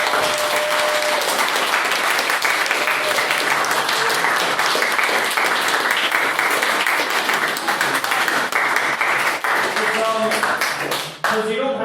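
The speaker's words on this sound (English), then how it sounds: "if we could please get a round of applause for any candidates who were not successful again" Applause from the audience at a student society AGM, dense and loud clapping sustained for about eleven seconds before it thins out and stops.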